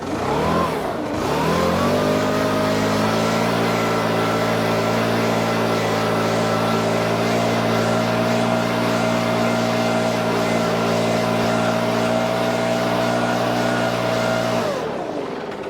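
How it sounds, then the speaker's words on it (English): A backpack leaf blower powers up and then runs at a steady high drone during lawn work in late summer. It sounds loud and close, holds an even pitch, and winds down at the end. "Get yourself a backpack blower."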